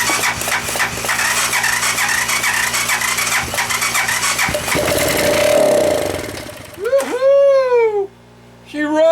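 Honda 200SX field-find engine, primed with a little gas, cranking and catching, then running with a rough, uneven note. Near the end people cheer and whoop loudly over the engine.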